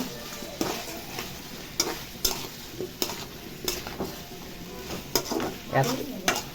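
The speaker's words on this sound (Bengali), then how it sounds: "এই পর্যায়ে ডিমগুলো সাজিয়ে দিচ্ছি কেউ ডিম বলে কেউ আন্ডা বলে আর একটু হালকা করে ভাজিয়ে নিচ্ছি" Eggs frying with tomato and onion for Bengali egg bhuna, a steady close sizzle broken by repeated sharp scrapes and taps of a spatula stirring in the pan.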